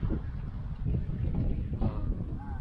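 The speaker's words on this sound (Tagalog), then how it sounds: "Sarap ng hangin." Wind blows steadily across the microphone during a river boat trip, a soft broadband rush with faint background murmur.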